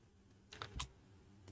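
A few light taps on a computer keyboard while typing a command, quiet and close, with one or two louder key presses standing out.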